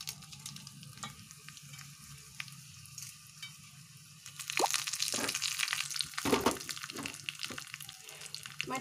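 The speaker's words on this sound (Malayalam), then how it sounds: "ആദ്യം അതിന് കടുകും മുളകും കറിവേപ്പിലയും കൂടെ വറുത്തിടാം" Mustard seeds, chili and curry leaves hit hot oil for a pumpkin curry, starting with quiet sizzling and a few pops, then bursting into loud, crackling spitting and stirring about halfway through, close by.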